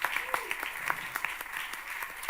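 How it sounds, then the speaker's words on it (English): Audience applause at an EU Cancer Mission fair, moderately distant with scattered individual claps in an uneven patter, and a faint voice underneath. "let's give a very big round of applause to Isabel."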